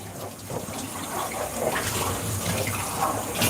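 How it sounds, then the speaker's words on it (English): Stock pouring into a pot of a thickening homemade dish, a continuous close liquid splash and gurgle lasting the whole stretch, with no speech over it. "We're just gonna add some more stock on that because we want it to be thick and creamy"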